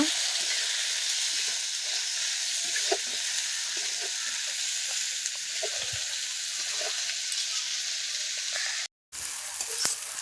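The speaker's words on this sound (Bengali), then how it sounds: "একটু নাড়াচাড়া করে নিচ্ছি পেঁয়াজটা একটু যাতে ভেজে যায়" Onions frying for a Bengali mutton curry give a steady, loud sizzle with scattered scrapes and clinks as they are stirred in the pan, a brief drop to silence near the end, and no voices.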